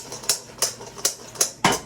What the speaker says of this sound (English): I'm going to give these a little shake.